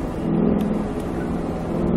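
A Mustang Shelby GT engine pulls hard under throttle on a track, a close, loud continuous growl holding steady for about two seconds.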